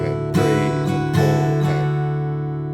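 An acoustic guitar strums the first bar of a song with a swing feel: a few close, ringing chord strokes that sustain and fade.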